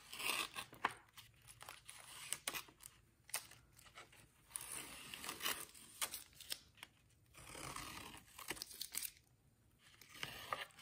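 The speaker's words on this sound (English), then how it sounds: "So let's take the tape off." Masking tape being peeled off the edges of a small painting, with bursts of crackly tearing and crinkling that come in stretches with quiet pauses between, close and fairly soft.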